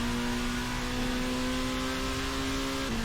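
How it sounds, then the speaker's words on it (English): A race car speeds flat out downhill at Road America, its engine holding a steady high drone with one brief shift in pitch near the end, loud and constant over wind roar. "Accelerating down the hill now"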